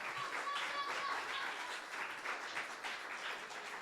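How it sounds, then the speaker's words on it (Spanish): A church congregation at a men's service applauds together, a steady burst of many hands clapping for a few seconds, moderately distant in the sanctuary. "Den un aplauso al Señor"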